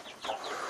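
Chickens clucking inside a small heated, lit coop, a short burst of close, busy hen calls layered over one another with no talk.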